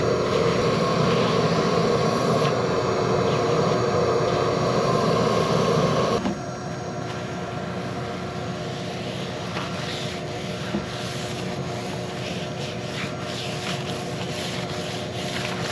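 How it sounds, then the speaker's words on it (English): A shop vac vacuums a tent, giving a loud, steady broadband rushing roar that rubs and scrapes as the nozzle moves, then drops to a slightly lower, rougher whoosh partway through. "Start vacuuming."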